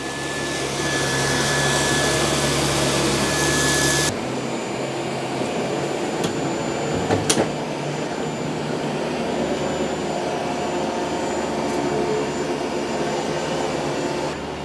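A robot vacuum runs with a steady loud whooshing motor drone, then the suction tone drops to a lower, quieter hum after a few seconds, with brief clicks and bumps over a continuous airflow roar.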